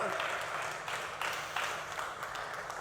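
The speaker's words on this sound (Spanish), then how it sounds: "Denle un aplauso a Dios y alabe a Dios por su nombre" A church congregation applauds during a Spanish-language worship service, a steady wash of clapping from many hands with a voice speaking over it throughout.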